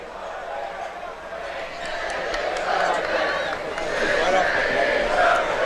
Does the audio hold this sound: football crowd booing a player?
yes